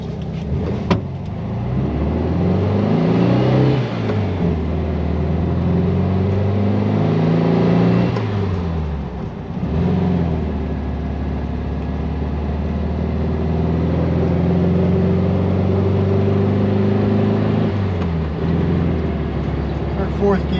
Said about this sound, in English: We're in fourth gear, without a problem, cruising this back roads.